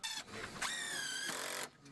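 A power drill whirs steadily during construction work for home accessibility, its motor tone sliding down in pitch under load, then stopping; close and fairly loud, with no talking.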